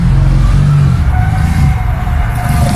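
A BSA trials motorcycle engine revs loudly and continuously up close at a trials event, a dense steady roar with no pauses.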